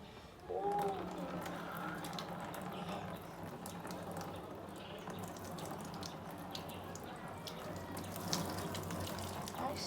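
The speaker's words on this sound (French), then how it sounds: "je vais d'abord ramasser un peu d'eau" Tap water runs steadily into cupped hands for wetting hair during a hair-care routine, a continuous close wash with faint splashing throughout.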